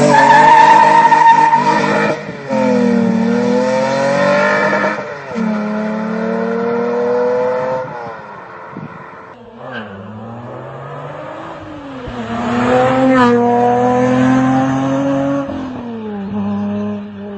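Toyota 1GR V6 engine revving repeatedly, loud and close, each blip rising sharply in pitch then falling back, with brief pauses between pulls and a smooth, harmonic-rich tone, no talking.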